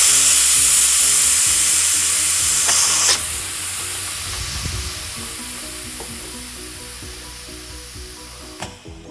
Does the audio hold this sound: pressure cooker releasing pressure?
yes